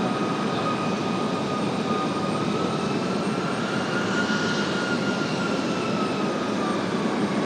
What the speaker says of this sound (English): There is the A350